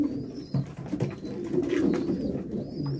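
Pigeons gathered at a water dish coo in soft, throaty, repeated calls close by, mixed with light rustling.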